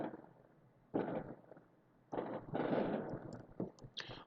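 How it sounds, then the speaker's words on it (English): Fireworks burst outside in a string of muffled, distant bangs and crackles, several sharp thuds spaced irregularly over a faint background hiss. "Lots of fireworks going on outside."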